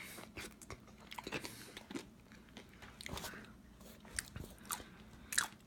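Crisp, irregular crunches of someone biting and chewing deep-fried avocado up close, several sharp bites standing out, with no speech.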